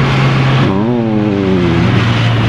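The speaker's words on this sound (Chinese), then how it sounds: "引擎声这只较细声啦，引擎声啦。" A Kawasaki Z900 RS Cafe motorcycle engine running loud and close, a steady low idle that revs up into a rising, falling throttle blip before settling back.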